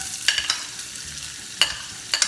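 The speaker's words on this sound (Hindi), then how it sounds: "प्याज को थोड़ा सा हल्का पिंक होने तक इसको हम भूनेंगे" Onion frying in hot oil with cumin and asafoetida, a few sharp stirring scrapes and crackles over a faint sizzle, close and intermittent.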